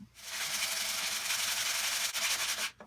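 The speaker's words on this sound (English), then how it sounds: "some good old-fashioned hand sanding" Steady, close scratchy rasping of sandpaper rubbed over wood in one long continuous stroke, soft and hissy, with no voices.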